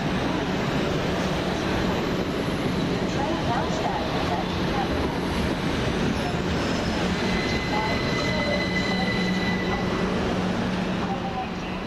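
A Govia Thameslink Class 387 train rolls through East Croydon station with a loud, sustained rumble, wheel clatter and faint squeal from the rails. A voice sounds faintly under the noise.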